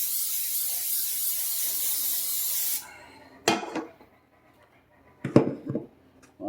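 Cooking oil sprayed from a can into a hot pan, a loud steady hiss lasting nearly three seconds, then brief clatters and handling noises close by.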